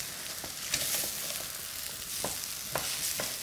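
Meat-stock broth made from bouillon cubes simmers in a pot for risotto, giving a steady hissing bubble with scattered soft pops and splashes, close and continuous with no talking.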